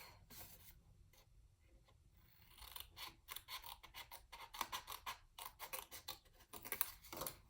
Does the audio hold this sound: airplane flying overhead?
no